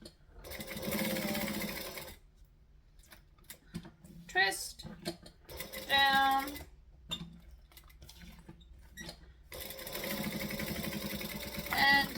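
A sewing machine stitches a zippered tote bag in close, rapid whirring bursts: a long run at the start, short stops and starts in the middle, and another steady run at the end, with a voice speaking briefly between runs.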